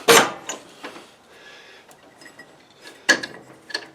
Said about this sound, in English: Now, I'm going to set the parking brake again.